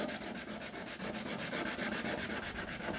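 A nail file rubs across an acrylic gel nail in quick, steady back-and-forth strokes, a soft close scratchy rasp repeating evenly with nothing else heard.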